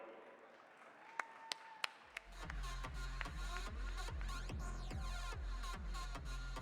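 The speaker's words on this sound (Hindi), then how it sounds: "तालियां बनती है भाई।" An audience at a swearing-in ceremony event starts with a few isolated claps, then breaks into steady, rhythmic clapping that carries on evenly in a reverberant hall.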